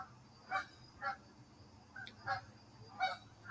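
Geese honk repeatedly at a distance, a series of about five separate calls spaced evenly over a few seconds.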